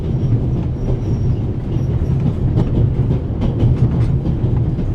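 A train running on rails in The Raven video game, a continuous rumbling roll with rhythmic clicks and faint squeals from the wheels, steady and fairly loud with no speech.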